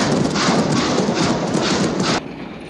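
A train pulls away in a Western film, with rough, rhythmic chugging bursts that are loud and close, then cut off abruptly shortly before the end.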